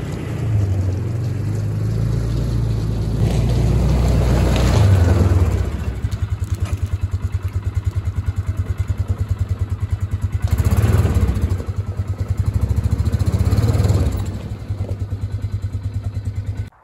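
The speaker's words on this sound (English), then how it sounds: "For getting the firewood out of the woods today, we're going to be using the Polaris Ranger." A Polaris Ranger utility vehicle engine runs steadily nearby in the woods during a firewood haul, with a rapid low putter, a couple of louder revving swells and no speech.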